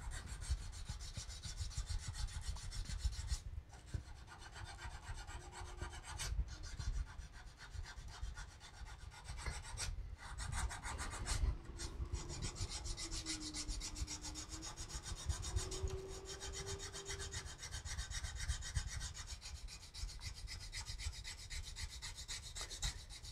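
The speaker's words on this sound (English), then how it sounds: "And continue my sanding." Sandpaper rubs steadily against a carved wooden piece, making continuous close rasping strokes with brief pauses between passes.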